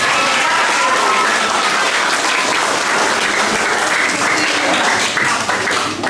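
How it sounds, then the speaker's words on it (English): An audience at a middle school assembly breaks into a round of applause for a student, a dense, steady wash of clapping that holds loud for about six seconds before easing slightly at the end. "Tommy, everyone give Tommy a round of applause."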